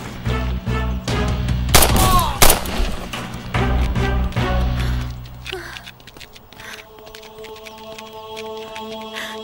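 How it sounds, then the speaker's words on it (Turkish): Loud bursts of gunfire, including a sniper, crack repeatedly over the first several seconds in a Turkish TV drama scene, then thin out, leaving a steady low hum and scattered faint noises. "Silah seslerini duymuşlardır."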